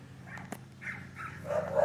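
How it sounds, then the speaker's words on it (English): Several dogs barking at a mobile home in Lynnwood Estates, Orlando, Florida: a few short yips and barks rise out of low background hum, moderately near and growing slightly louder toward the end. "Video's got every dog and cat all excited"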